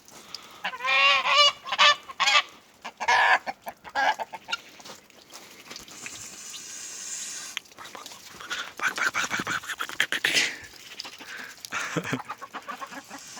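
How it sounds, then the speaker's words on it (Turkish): Loud, close goose honks repeat in bursts, mixed with clucking chickens and brief voices in the background. "Kaz nasıl çağırıyor?"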